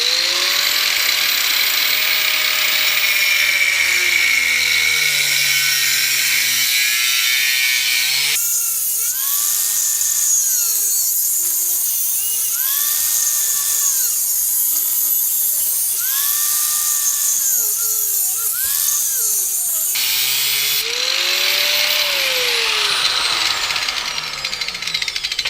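A handheld power tool slices through an exhaust reducer pipe during a 3.5-inch universal exhaust install on a Honda Civic MB2 with a D14A8 engine, a loud continuous whine that rises and falls in pitch as the blade bites in, alone without talk.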